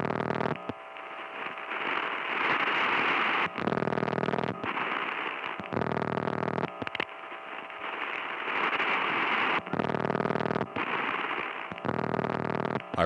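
A 1980 phone line with an incoming call ringing, recorded on tape: loud distorted ringing bursts alternate with hissy, humming gaps in a regular cycle, with no voices present.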